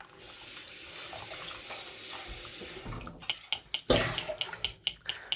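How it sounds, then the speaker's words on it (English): Tap water runs steadily into a sink while a pan is rinsed, then turns to splashes and irregular clatters of the pan being handled under the stream. "I want to just rinse my pan now"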